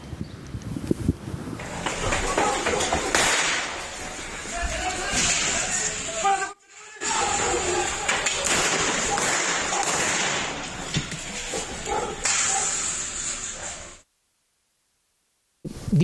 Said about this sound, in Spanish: Los invito a escuchar el ambiente de esta balacera